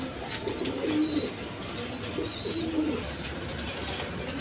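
Pigeons coo in low, throaty repeated phrases close by, with two clear bursts over a steady background hum and faint chirps, no talk.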